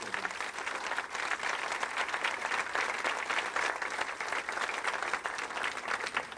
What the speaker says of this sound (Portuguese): Transfiro todas essas palmas para o meu Jesus.